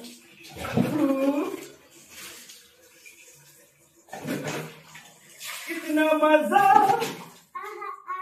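A child's hand splashes into a bucket of water during a Holi celebration, producing short watery sloshes at close range, interleaved with people talking and a voice.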